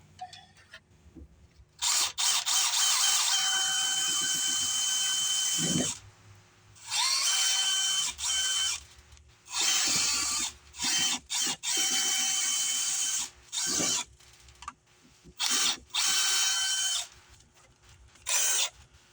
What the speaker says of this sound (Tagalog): Don't force it or penetrate the drill gun or the drill bit becomes broken